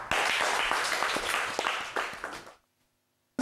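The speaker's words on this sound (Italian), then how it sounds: "Applauso." Studio audience applause on an Italian TV football talk show, a dense burst of clapping that lasts about two and a half seconds, then cuts to silence.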